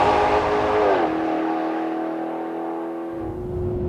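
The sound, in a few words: 2013 Maserati GranTurismo engine accelerating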